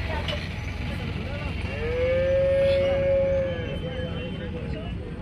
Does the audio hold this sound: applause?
no